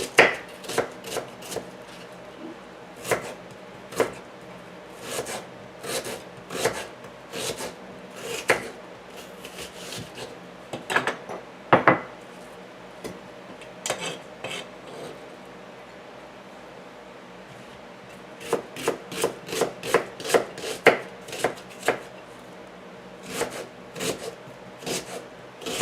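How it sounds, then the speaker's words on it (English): A medium onion is chopped finely by knife on a cutting board, with brisk bursts of sharp, close taps that pause and resume, including a dense fast run near the end, and no talking. "Now we also have to cut up 1 medium onion."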